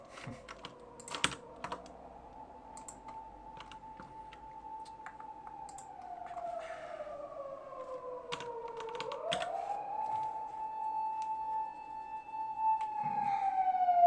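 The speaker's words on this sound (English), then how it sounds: "late night siren outside my window here." A distant late-night siren outside a window wails steadily in the background, its pitch slowly rising and falling, while close keyboard typing clicks in bursts up front.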